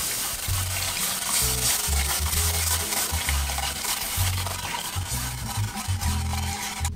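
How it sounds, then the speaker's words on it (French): Cold milk is poured into a roux for béchamel while a utensil stirs constantly, giving a continuous close scraping and swishing over a low bubbling hiss, with no voices. "Donc là, je vais verser mon lait tout en mélangeant."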